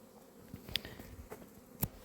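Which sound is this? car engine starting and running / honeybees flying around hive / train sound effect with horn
honeybees flying around hive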